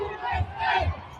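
A large crowd of Iranians rallying in Munich chants in unison, two rhythmic surging shouts rising over steady crowd noise, loud and close.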